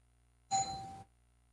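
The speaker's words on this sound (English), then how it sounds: "Oh, did you hear that? Doorbell?" A single doorbell chime rings once, a short clear electronic ding lasting about half a second against near silence.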